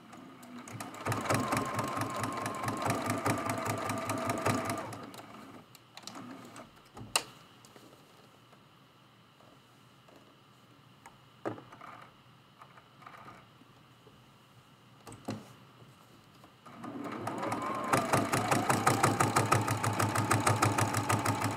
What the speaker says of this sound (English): I just put a line of quilting through it, right?